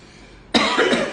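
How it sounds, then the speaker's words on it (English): A single sharp throat clearing breaks a quiet moment, a close, rough burst lasting about half a second. "See, clear my throat."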